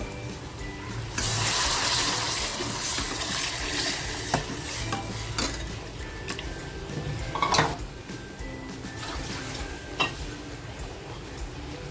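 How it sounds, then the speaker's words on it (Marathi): Mutton pieces and soup poured into a simmering mutton rassa curry start with a sudden splashy gush, then settle into a bubbling sizzle with scattered stirring knocks and clinks. "थोडंसं मटण आणि सूप ठेवलं होतं ते मी या रशामध्ये टाकते आहे"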